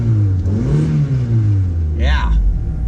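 A 2.3 liter single overhead cam VTEC car engine revs in neutral with the windows down, its pitch swinging up and falling back as the throttle blips, rising into a sharper climb near the end; a voice is faintly present underneath.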